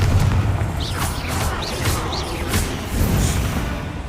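Confringo fire spell explosions in Hogwarts Legacy, a run of deep booming blasts with whooshing bursts layered over one another, loud and close, with no talking.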